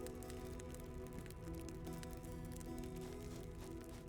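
Steady rainfall in the farming video game Mirthwood, a faint continuous patter with crackling drops over a low ambient drone, no voices.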